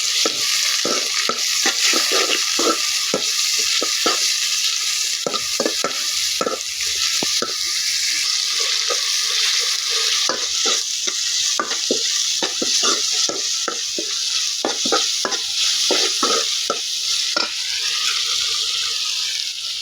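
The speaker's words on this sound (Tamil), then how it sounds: "வெங்காயம் நல்லா வதங்கி வந்ததும் அது கூட தக்காளி சேர்த்துக்கலாம். தக்காளி கொஞ்சம் வதங்கட்டும்." Onions and tomatoes sauté in a pan for a village-style fish curry, a constant close sizzle broken by frequent rhythmic scraping strokes of a spoon stirring, with no voices.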